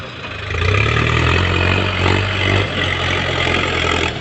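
A low, steady engine hum idling close by, with a faint rise in the middle, continuous throughout with no talk.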